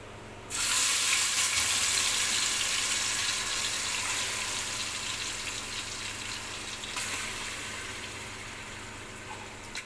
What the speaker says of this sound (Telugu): ముందుగా మసాలాలు నానబెట్టుకున్న చికెన్ అయితే ఇప్పుడు ఆయిల్లో వేసుకుందాం